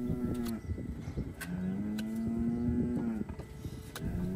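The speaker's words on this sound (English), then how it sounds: "We can all hear the cow getting impatient in the background." An impatient cow in a hoof-trimming barn moos in long, low drawn-out calls, two sustained bellows close by with clattering and knocking sounds around them.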